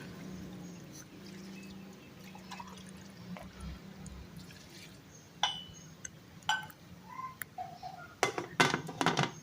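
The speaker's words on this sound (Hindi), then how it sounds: "3 गिलास इसमें पानी डाल देंगे।" Water is poured into a pot of mutton paya (goat trotters) with garlic, ginger, tomato and onion. The pour is faint and steady, followed near the end by a few sharper clinks and splashes.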